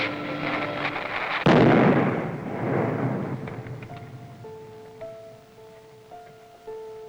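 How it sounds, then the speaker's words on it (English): A dynamite blast at the mouth of a rattlesnake den in a rocky cave, one sudden loud boom that rolls into a long fading rumble, followed by quieter scattered sounds and soft tones. "the men had done their dynamiting well"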